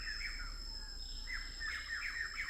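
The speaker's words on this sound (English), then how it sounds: "Birds are going nuts at me." Birds calling loudly in a Cambodian jungle near Angkor-era ruins, repeated chirping phrases over a steady bed of insect buzz, fairly close and with no talking.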